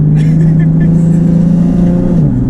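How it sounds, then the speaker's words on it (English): A Nissan 370Z engine tuned to 380 bhp drones loudly and steadily from inside the car, holding a constant pitch before dropping slightly near the end. "So we're just going out for a little rip in the 370Z with Jake"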